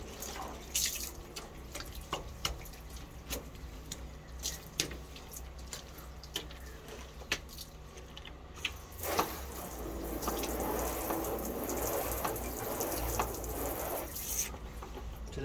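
Water runs and splashes while a car is rinsed during a wash, a steady spray with scattered drips that grows into a louder, fuller rush partway through.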